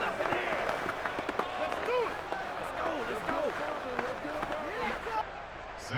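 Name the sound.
crowd applause in the video game Madden 22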